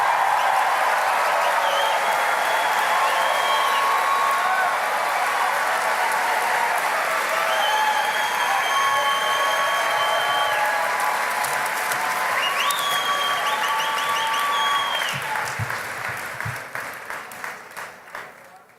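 Loud, sustained applause and cheering from a large crowd at an outdoor political rally in Greeley, holding steady for a long stretch before tapering off into scattered claps.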